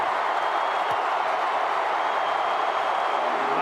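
A packed Oklahoma State football stadium roars during the Bedlam game against Oklahoma, a continuous loud wash of crowd noise holding at a constant level.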